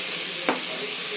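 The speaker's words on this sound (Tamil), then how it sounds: "வெங்காயம் போட்டாச்சு, வதக்கிக்கலாம்." Onions sautéing in a pan for paneer butter masala, a steady bright close sizzle with a single short scrape of a spoon partway through.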